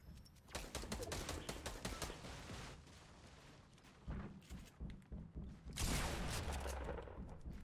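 Rapid gunfire in Fortnite, bursts of close shots crackling in dense volleys, pausing, then resuming loudly toward the end.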